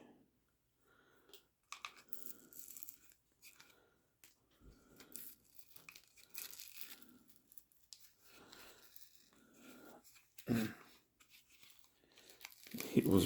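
Old grip tape being peeled off a Beretta PX4 Storm Compact .40 S&W pistol frame, a run of close tearing and crinkling rips that rise to a louder strip near the end, with a voice talking in between.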